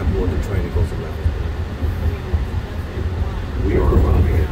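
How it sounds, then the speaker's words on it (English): New York subway A train on the Far Rockaway branch running, a continuous loud rumble of wheels and rails with a steady roar that swells toward the end. "This is the Far Rockaway branch of the A train."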